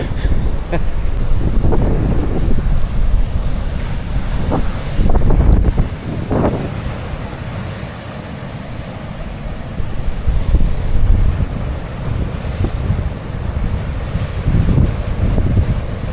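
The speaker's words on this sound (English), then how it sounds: "It is a little bit blustery today, I'm not gonna lie." Blustery wind buffets the microphone on the Fife coast with surf nearby, loud rumbling gusts that surge and ease throughout, sometimes stronger, sometimes lighter.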